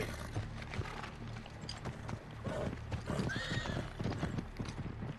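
A horse in the video game Uncharted 3 whinnies while its hooves clip-clop steadily nearby, with the neigh standing out over the rhythmic steps.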